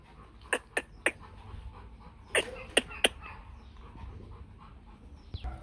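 A three-month-old Rottweiler puppy breathing close by: a string of sharp, snuffly puffs like short pants or little sneezes, in two quick clusters of three, over a quiet indoor background.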